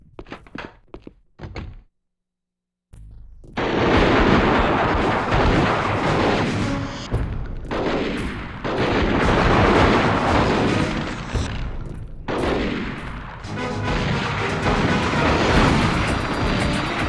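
Loud, sustained gunfire and heavy impacts ring out in the PS2 action game Dead to Rights, dense bursts of shooting booming almost continuously after a brief near-silent gap at the start.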